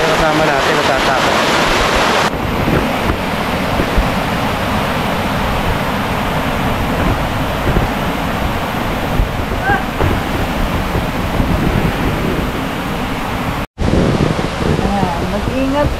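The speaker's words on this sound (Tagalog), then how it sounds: "pakita natin yung ilog sa kanila" River water rushes loud and steady beneath a hanging bridge at a farm campsite. The roar is broad and constant, with wind buffeting the microphone and people talking faintly under it, and there is a brief dropout near the end.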